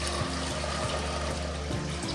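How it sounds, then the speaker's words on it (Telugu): Water is poured into a pot of bagara rice in a home kitchen, a soft, continuous splashing and trickling that runs steadily for a couple of seconds at close range, fairly quiet, with no talking. "నేను బగారా దాంట్లో అయితే వాటర్ పోషిస్తున్నా."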